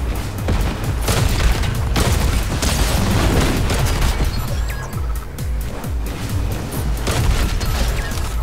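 Rapid gunfire and booming blasts from the video game Fortnite, dense and loud throughout with repeated sharp bursts and heavy impacts, no talk heard.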